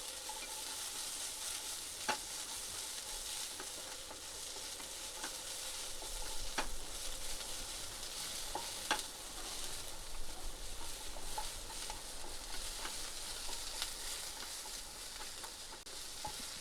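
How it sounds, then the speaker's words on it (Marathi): Surmai fish curry ingredients in a pan give a steady, hissing sizzle of frying throughout. Soft scrapes and taps of stirring occur every second or two. "मी जास्ती नाही फ्राय करून घेणार आहे, मी थोडं करणार आहे"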